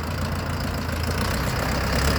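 A steady diesel engine of a 2023 tractor idles close by, a constant low rumble with no pauses or voices.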